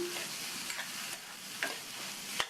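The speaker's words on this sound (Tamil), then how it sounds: "முள்ளங்கியை சேர்த்துட்டு நல்லா இந்த மாதிரி பிரட்டி கொடுத்துருக்கேன்" Radish pieces are stirred and tossed in a hot frying pan, with a constant sizzle and soft scraping strokes, ending in a sharp clack of the utensil against the pan.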